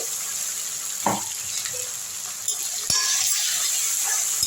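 Ginger garlic paste frying with coconut in a home kitchen pan for a Coimbatore-style coconut chicken, a soft continuous sizzle with a few stirring clinks and scrapes close by, no voices.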